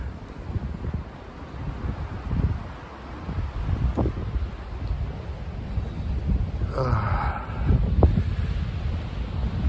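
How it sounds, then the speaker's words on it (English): Outdoors in a Vienna cemetery, wind gusts buffet and rumble at the microphone over a rustling background, rising and falling in surges for several seconds. "Looks like the wind's picking up a little bit."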